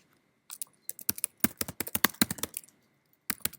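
Quick, close clicking of keys on a computer keyboard as an SQL command is typed, irregular taps in a steady burst, a short pause, then a few final keystrokes.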